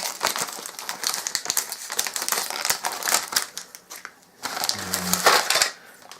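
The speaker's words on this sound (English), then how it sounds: "Snip along the lines that it's supposed to cut by." Scissors snip through the cardboard packaging of a Kracie ice cream kit along printed lines, a close run of crisp cuts and paper crinkling with a short pause before a few final snips.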